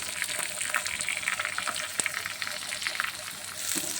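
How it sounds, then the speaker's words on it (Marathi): Chopped onion frying and being stirred in a hot pan while preparing a spiced potato curry for puri, a steady sizzle with scattered scraping clicks running throughout. "ते कळसून घ्यायचा आहे कांदा."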